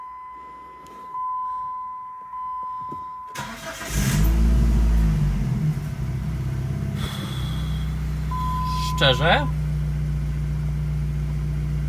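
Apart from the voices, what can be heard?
car engine started and revved, cracked exhaust muffler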